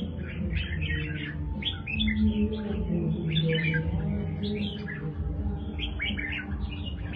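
Red-whiskered bulbul chirping and singing in a cage, a close series of bright, quick warbled phrases repeating over several seconds above a low background hum.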